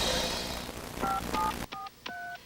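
A touch-tone telephone keypad dialing a number, with several short dual-tone beeps in quick succession, clear and close, the later tones standing alone in silence after a burst of noisy background.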